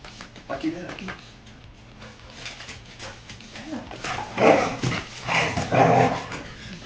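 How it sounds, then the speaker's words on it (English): A pet dog growls, yips and barks excitedly in short bursts that grow louder toward the end, close by, while a person talks over the noise. "My dog is going crazy."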